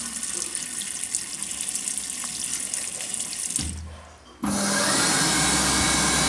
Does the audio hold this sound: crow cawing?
no